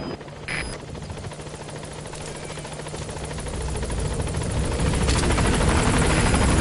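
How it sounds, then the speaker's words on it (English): An extraction helicopter arriving in the video game Metal Gear Solid V: The Phantom Pain, its rotor chopping in a dense, steady roar that grows louder and closer, with no talk over it. "I'll send the extraction chopper."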